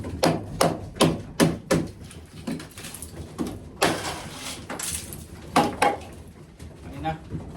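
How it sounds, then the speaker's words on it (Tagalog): A hammer strikes ice repeatedly, sharp cracking knocks in quick bursts with pauses between, over a background of people talking. "Kaya lagi ako mayroong martilyo dito sa gilid."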